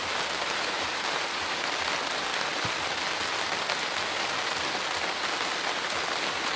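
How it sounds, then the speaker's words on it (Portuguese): Steady rain falls outdoors on a rural plot during bamboo planting, a dense even patter of drops on surfaces that runs unbroken throughout with no voices. "O tempo aqui está chuvoso, está chovendo, é a hora ideal da gente plantar."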